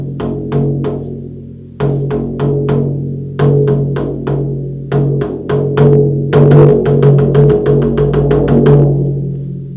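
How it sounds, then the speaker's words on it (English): A shamanic frame drum is beaten in a steady series of sharp, resonant strikes, played in bursts with brief pauses and then a faster, denser roll at the end that changes the drumming tone to signal the return. No voices. "you'll hear a change in the tone of the drumming, which we call the callback signal"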